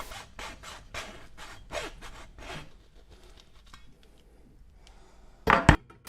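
Scissors or a blade rasp and scrape against a crackle ball thickly coated in layers of gel nail polish, a series of short rhythmic scratching strokes up close, then a quiet pause and a sharp cracking snap.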